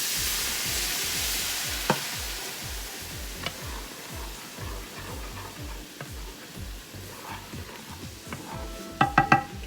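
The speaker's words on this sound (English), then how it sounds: "So now you want to go ahead and get in whatever stock that you're going to be using. Be careful because it's very hot and it will splatter." A hot pan of Southern-style smothered pork chops sizzles and crackles loudly as stock is poured in, with dense frying spatter, rhythmic stirring scrapes and a few sharp utensil clinks near the end.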